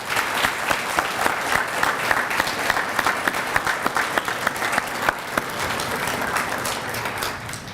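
Attendees at a law enforcement training graduation ceremony give the graduating cadets a round of applause, a dense, lively clapping from a crowd with some sharp individual claps standing out, tapering gradually toward the end.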